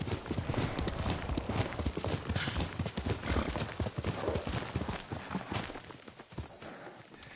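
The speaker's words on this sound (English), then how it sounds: "Yuriko's horse." A horse's hooves clip-clop rapidly and loudly up close in the Ghost of Tsushima video game, with a neigh breaking through before the hoofbeats thin out near the end.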